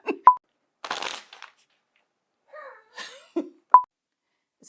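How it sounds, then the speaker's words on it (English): Brief riffling bursts of cards being shuffled, with a couple of sharp taps and soft handling noises in between, close and fairly quiet. "That was a terrible shuffle. Let's try that again."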